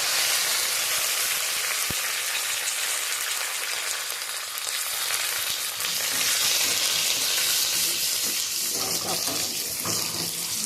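Curry leaves and dried red chilies sizzle in hot oil in a pan, a steady close hiss and crackle with a brief sharp tap near the start.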